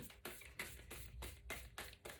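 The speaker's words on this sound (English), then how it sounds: "Another shuffle." A deck of tarot cards is shuffled by hand at close range, with a quiet, regular series of about eight brisk papery bursts.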